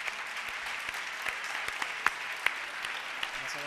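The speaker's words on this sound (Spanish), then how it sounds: "Un fuerte aplauso." Applause at the 2017 Camargo awards gala as an award is handed out: a sustained, fairly soft crowd clapping spread evenly across the hall, with a few sharper individual claps standing out near the middle.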